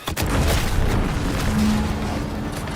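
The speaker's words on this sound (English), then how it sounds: "What's that? An explosion?" A loud, sustained booming roar from an explosion in the video game The Outer Worlds 2 fills the whole stretch, a dense rumbling blast with a faint tonal ring in the middle, no voices.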